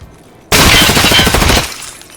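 Burst of rapid gunfire in the Escape from Tarkov video game, loud and close, a dense volley of about a second that cuts in abruptly and then drops to a quieter tail.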